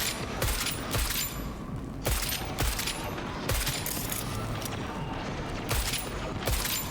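Rapid, sharp gunfire bursts from a Cyberpunk 2077 firefight, loud and close, with shots cracking every second or so over a busy mechanical background and no voices.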